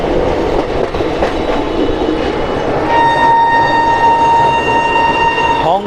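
The Shramjeevi Express rolls into Ara Junction in Bihar, wheels rattling loudly and rhythmically over the rails, then a long sustained horn blares close by through the second half.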